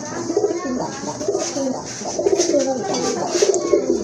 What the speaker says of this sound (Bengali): সাপ চোখের কবুতর, সাদা চোখের কবুতর।